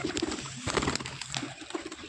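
Pigeons kept for breeding coo steadily and close, low throaty calls repeating under a busy background with no talk.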